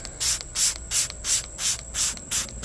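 Seven short hissing bursts of cleaner from a trigger sprayer onto a soft foam polishing pad holding wax, evenly spaced and close up, with no talking.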